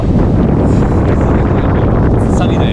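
Wind gusts across a cold, sunny New York street, a steady broadband rush of microphone buffeting that fills the whole clip with no pauses.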